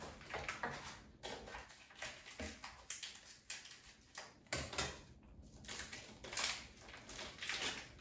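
Frozen cod fillets are pulled from their plastic packaging, giving faint, irregular crinkling and crackling bursts with soft rustles and thumps between them, close up and with no voice.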